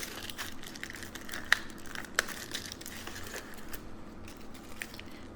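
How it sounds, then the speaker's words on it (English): A plastic bag being opened for a VacLife VL738 tire inflator's attachments gives off soft, steady crinkling and rustling up close, with a couple of sharper crackles, no voices. "Let's go ahead and open up the plastic bag."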